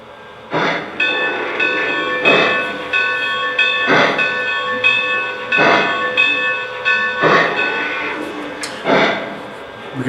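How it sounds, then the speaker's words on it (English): Lionel LEGACY 2-10-4 model steam locomotive ringing its bell, a repeated ringing tone sounding at a steady, slow pace over soft rhythmic chuffing, moderately loud and close. "The bell is as follows."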